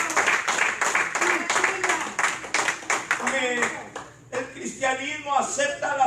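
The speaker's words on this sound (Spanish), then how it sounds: "¿Cuánto dan ese aplauso al Señor de la gloria?" A church congregation claps during a sermon, rhythmic hand claps running loud through the first part with voices and music mixed in, then thinning into talk and singing-like sounds.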